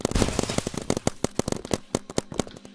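Rapid volley of sharp paintball gun shots in the Big Paintball video game, closely spaced popping bursts firing in an uneven rapid rhythm without speech.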